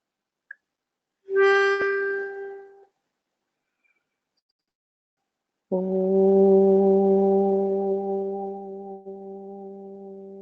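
Voices sing a sustained, resonant Om twice: a short tone, a pause, then a longer steady chant that fades slowly.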